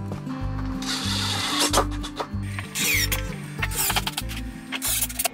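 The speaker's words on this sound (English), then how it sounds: "then you simply install a few screws to hold it in place" Screws being driven into Laticrete Hydro Ban board during a wall wet-shim install, heard as repeated close, buzzing bursts of a powered driver with rubbing and ratcheting clicks between them.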